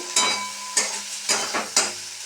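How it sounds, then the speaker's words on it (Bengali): Prawn heads frying in hot oil, sizzling close by with four evenly spaced bursts of spattering and spatula scrapes over a steady crackle. "ওই তেলের মধ্যে চিংড়ি মাছের মাথাগুলোকে ভেজে নিলাম"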